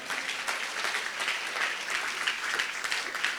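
Applause at a church gathering acclaiming the Lord, with a crowd's dense steady clapping that fills the room from start to finish.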